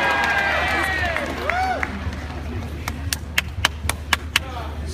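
A crowd at a concert cheers and whoops, with voices rising and falling, then breaks into a handful of sharp, loud, scattered claps.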